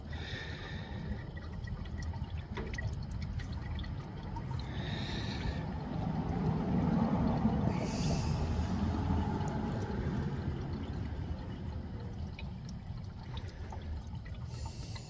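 Transmission fluid drains from a car's transmission into a jug, a soft continuous liquid pour and trickle that swells slightly in the middle, with faint clinks, and no talking.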